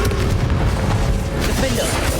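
Confringo blasting spell explosion in Hogwarts Legacy during a dragon battle, a deep sustained boom with rumbling low end lasting about two seconds.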